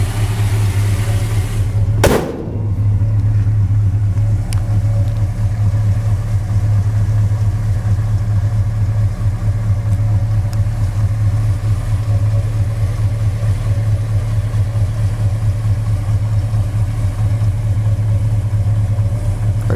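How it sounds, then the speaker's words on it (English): A 1967 Plymouth Belvedere V8 idling steadily up close, a smooth, even low rumble that stays constant throughout with one brief sharp click near the start. "Engine runs nice"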